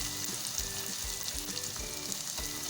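Onions fry with black and green cardamom and cinnamon pieces in a pan, a close steady sizzle with rhythmic scraping strokes of a spoon mixing, regular beats about every third of a second.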